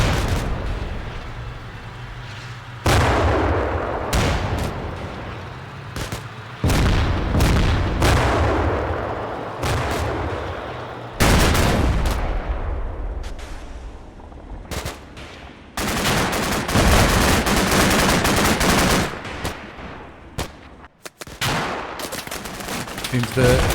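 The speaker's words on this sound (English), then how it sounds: "Seems the 50 cals are making good work of that timber bunker." Bursts of .50 cal machine gun fire raking a timber bunker in the war game Combat Mission Cold War, loud sustained volleys starting and stopping repeatedly, with heavier booms and overlapping gunfire filling the whole stretch.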